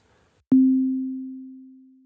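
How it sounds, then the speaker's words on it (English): A pure synthesizer sine wave starts with a soft click and holds one steady low tone, fading slowly for about a second and a half with no other sound. "This is the sine wave"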